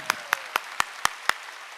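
Six sharp, evenly spaced claps ring out in a church congregation, each a crisp, loud slap with a short echo, forming a steady rhythmic beat.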